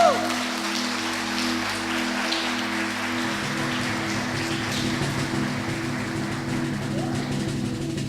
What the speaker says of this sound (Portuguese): Aplauda aí, gente.